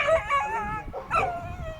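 A dog howls and yowls in a drawn-out, wavering voice, loud and close, with pitch rising and falling across two long phrases.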